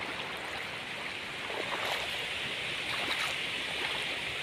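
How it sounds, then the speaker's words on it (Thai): Steady, broad rushing of water pouring continuously over a weir, loud and unbroken throughout with no voices. "น้ำไหลเชี่ยวแรงกว่าเดิม"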